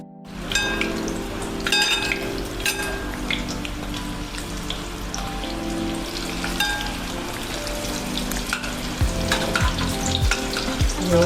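Green bell peppers stuffed with potato filling fry in oil, giving a dense, constant sizzle with scattered crisp pops and occasional clinks of a utensil.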